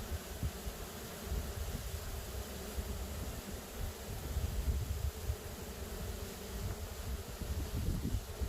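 Package of honey bees humming inside a small box before installation: a dense, continuous buzz of many bees at close range, fairly quiet and fluttering slightly in level, with no voices.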